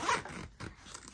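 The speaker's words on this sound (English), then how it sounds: "here there is a zippered pocket in the back panel" A zipper on a back-panel pocket of a diaper bag backpack is pulled open in one quick, close, scratchy run lasting about a second.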